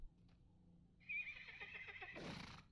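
A horse in Lord of the Rings Online gives a loud, clear whinny lasting over a second, with a descending, quavering pitch that ends in a breathy snort, heard alone without speech.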